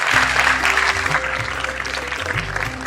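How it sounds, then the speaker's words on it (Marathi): An audience at a Marathi theatre award event claps together in a burst of applause, loud and sustained for a few seconds over a low background hum. "जरा तुम्ही तुमच्यासाठी टाळ्या वाजवा"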